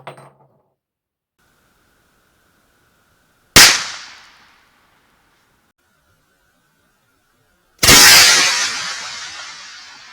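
Two loud 45-70 rifle shots firing 380-grain Buffalo Bore monometal bullets into thick aspen logs outdoors, each a sharp crack with a decaying rumble, several seconds apart amid near silence.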